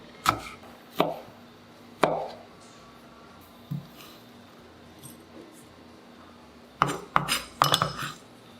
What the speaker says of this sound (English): Two red chilies. Cut into small pieces.